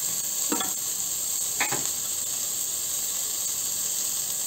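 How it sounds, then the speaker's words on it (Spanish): Chopped onions fry in a pan with a constant bright sizzle and hiss, broken early on by two short scraping stirs, then settling into even frying. "separando los trozos de la cebolla. Vamos dando unas vueltitas. Esto tiene que dorar un poco."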